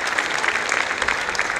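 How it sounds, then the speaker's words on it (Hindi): Loud, steady applause from an audience at a preschool annual event, sustained clapping with no pauses. "तो एक बार जोरदार ताली हो जाए"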